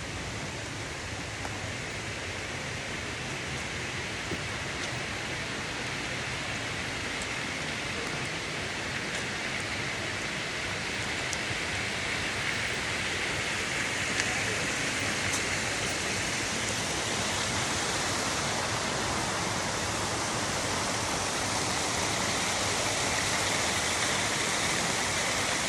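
Pahanthudawa Ella waterfall at Belihuloya, a broad steady rush of falling water heard fairly close, constant and unbroken throughout with no voices.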